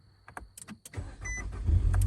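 A 2013 Nissan Altima cranks over briefly and catches, the engine settling into a low, steady idle close by after a few faint clicks.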